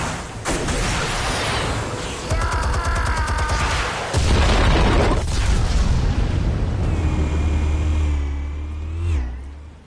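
Explosives detonate in a Batman action video game, with deep booming blasts and rumbling low-end roar, heavy mechanical clatter and crashing debris, loud and close, building then fading.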